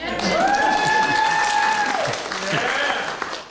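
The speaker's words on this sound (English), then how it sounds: "go ahead, clap for him too" At a medical talk, an audience claps in a steady wash of applause, partly covered by a loud, long whistle-like tone. The clapping thins out toward the end.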